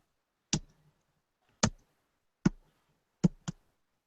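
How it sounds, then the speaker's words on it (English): Keys are typed one at a time while an email address goes into Evernote, five sharp, isolated clicks spaced irregularly, with the last two close together, and no talking. "Can you tell us what you're typing? Right now I'm just putting in the email address."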